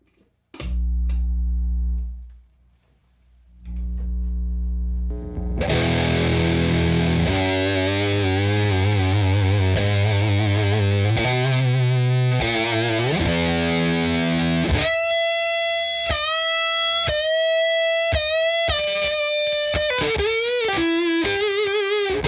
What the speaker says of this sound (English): let's check out the Big Muff